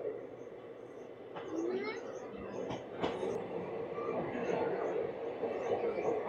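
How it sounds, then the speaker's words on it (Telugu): Aboard the Palnadu SF Express as it runs through Cherlapalli railway station without stopping: a steady rumbling roll of wheels on track with clicking joints and faint squeals, voices talking over the noise. "skipping Cherlapalli railway station"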